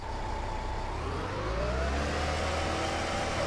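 A tractor in Just Cause 2 drives along with a steady, loud mid-range engine drone that climbs slightly in pitch as it picks up speed, continuous and close throughout.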